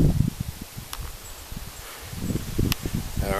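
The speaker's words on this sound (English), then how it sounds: "That's from the wind." Wind gusting through tree branches outdoors, a rough low rumbling rush that swells, eases briefly and builds again, with faint scattered rustles and no talking.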